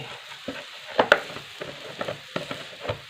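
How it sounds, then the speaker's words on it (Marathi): Salt and chili being stirred into leafy greens in a pan for a Maharashtrian-style bhaji, with scattered spoon scrapes and soft clicks against the pan over a faint, low sizzle. "हे मीठ टाकल्यावरून ते चांगलं हलवून घ्यायचं एकजीव करून"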